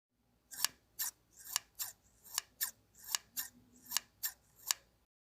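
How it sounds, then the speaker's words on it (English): Scissors snip through lining fabric with about ten crisp, close cuts in an even rhythm, each a sharp slicing rasp, and no talking. "you will cut across this line and you will end up with 4 pieces of fabric for your lining"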